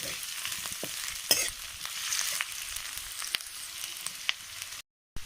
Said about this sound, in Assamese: অকণমান ফ্ৰাই কৰি থাকিম ইয়াৰ কালাৰটো যেতিয়া অলপমান চেঞ্জ হ'ব তেতিয়া আদা নহৰু পেষ্ট যিখিনি বনাই লৈছিলোঁ সেইখিনি মই ইয়াতে দি ভালদৰে লৰাই থাকিম